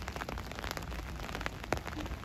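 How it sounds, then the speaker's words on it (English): Rain falls on a mild Monday evening street in Hampstead: a close, continuous patter on wet surfaces, with scattered sharper drips and splashes and no talking. "as you can see, or as you can hear, it's raining"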